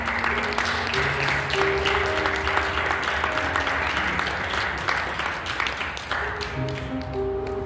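A church congregation at a youth worship service applauds in a sustained wash of clapping, with background voices and sustained tones under it.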